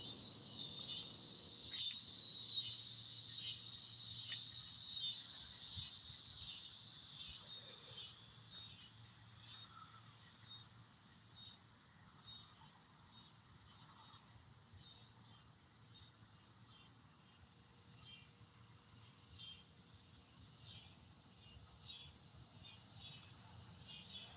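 Cicadas buzzing outdoors in a wet, muddy wooded spot, a steady high-pitched droning chorus with pulsing rhythm that carries on throughout, with faint scattered rustles beneath.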